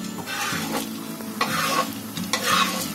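Masala and chana dal fried and stirred in a pot for a village-style chicken curry for a crowd: steady scraping stir strokes about once a second over a continuous sizzle, close and fairly loud, no voices.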